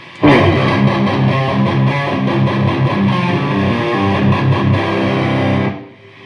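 An electric guitar played through a Marshall DSL amp without an overdrive pedal rings out loud with distorted chords and a thick, muddy low end, sustained for several seconds before cutting off.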